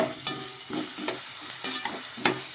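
Onion and tomato pieces frying in a pan while being stirred: a close, soft sizzle broken by several quick spatula scrapes and taps.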